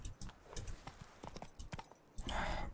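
Roach the horse gallops in The Witcher 3, hooves clip-clopping in a steady quick rhythm up close, ending with a louder rush of movement.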